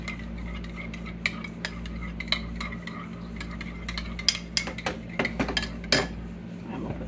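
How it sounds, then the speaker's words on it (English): Garlic sauce being stirred with a utensil in a pot, giving a string of light metallic clinks and scrapes that grow busier toward the end, with a steady low hum underneath. "Gonna take this and just stir it up."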